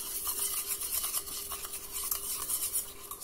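Detergent and turmeric powder being stirred together into a red fake-blood mixture, giving a steady, close scraping and swishing that runs continuously with soft rhythmic strokes and no talking.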